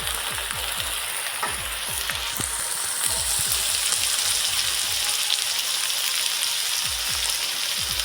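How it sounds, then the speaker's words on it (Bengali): Garlic paste fries in a pan with a close, continuous sizzle, while a utensil scrapes and taps against the pan in quick, repeated strokes as it is stirred. "রসুন বাটা দিয়ে ভালোভাবে নাড়িয়ে নিতে হবে, যেমন রসুনের কাঁচা গন্ধটা চলে যায়।"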